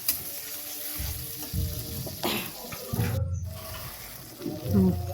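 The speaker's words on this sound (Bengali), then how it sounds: "বাটা জিরে, আদা, কাঁচা লঙ্কা এবং টমেটোর পেস্ট দিয়ে বেশ ভালোভাবে কষাতে হবে মশলা, যতক্ষণ না তেল ছেড়ে এসে" A masala paste of ground cumin, ginger, green chilli and tomato sizzles and fries in oil in a pan while being stirred, with a running tap and clinks of utensils nearby.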